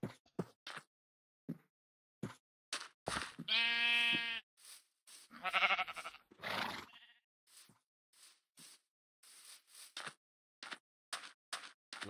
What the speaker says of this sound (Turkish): Bunların hepsi koyun koyun.